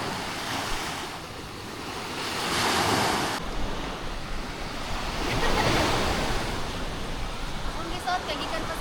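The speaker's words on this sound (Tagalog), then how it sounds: "Dagat na yun." Ocean waves and wind at the sea on a tropical trip, a steady roar of surf with gusty wind buffeting the microphone, swelling and easing throughout.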